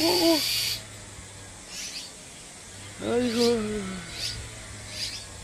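A bull-headed shrike nesting in a persimmon tree gives harsh, repeated calls in short bursts at close range, with a low steady hum underneath.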